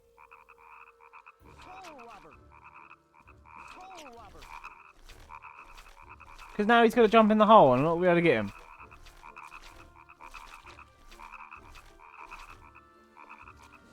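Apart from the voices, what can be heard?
frogs croaking in Oogie's Revenge frog catching minigame, video game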